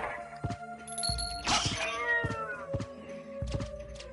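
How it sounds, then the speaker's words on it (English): A house cat meows close to the microphone, a rising, drawn-out cry in the middle framed by several short tonal mews and soft thumps, with steady background tones running beneath. "You may hear the cat meowing"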